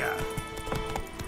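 Roach, Geralt's horse in The Witcher 3, gallops in a rapid, rhythmic clip-clop of hooves at moderate loudness over steady game ambience.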